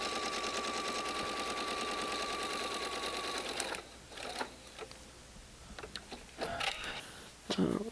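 A sewing machine runs steadily while stitching blue quilt fabric for a twisted block, a continuous close whir for the first few seconds, then stops, leaving scattered clicks and handling noises of the fabric and machine.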